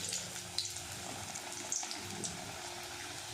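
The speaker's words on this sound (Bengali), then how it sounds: "শুকনো লঙ্কা, এবার একটু আলুটা ভেজে নেব" Potatoes fry in hot oil with bay leaves and dried chillies, giving a steady close sizzle sprinkled with small crackles and pops, with no talking.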